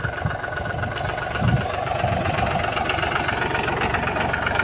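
A tractor engine idles steadily on a farm field, a constant low rumble with a slight bump in loudness partway through and no talk over it.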